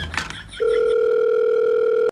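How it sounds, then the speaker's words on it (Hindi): A brief burst of dialing tones gives way to a steady, loud electronic ringback tone held continuously until it cuts off. "एक ही बार फोन लगाऊंगा है"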